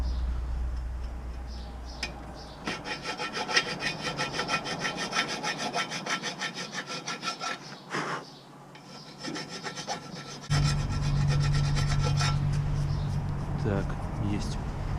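Sanding curb damage off a BMW X5 E53 wheel rim makes a steady abrasive rasping that runs in rhythmic strokes, then a low hum joins in partway through, with a voice talking over parts of it.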